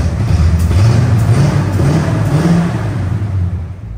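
A lowered 1981 Ford F100 pickup's V8 engine rumbles loudly up close in neutral, with wavering low pitch rising and falling through light revs before easing off toward the end, no talk over it.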